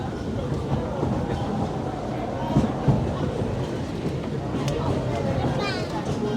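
A Disneyland Railroad train rolls along its rails with a steady rumble and faint clickety-clack, continuous throughout, while a crowd murmurs in the background.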